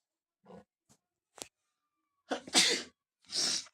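A few short, sharp bursts of coughing or sneezing, close and fairly loud, with brief quiet gaps between them.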